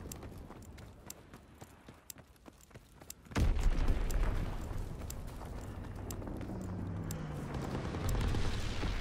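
A planted explosive detonating in a WWII video game, a sudden loud boom after several seconds of sparse ticking and clicks, followed by a long rumbling roar of debris and fire that trails off but stays strong.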